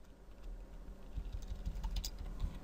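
Quick, soft keystrokes patter on a computer keyboard in a quiet room, a short irregular burst of close typing with no talking.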